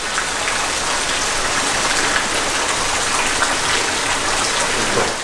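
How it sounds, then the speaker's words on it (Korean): Rain falls steadily on an asphalt road on a misty afternoon near a coffee farm on an island, a dense even hiss with no pauses or voices. "비가 오기 시작했다."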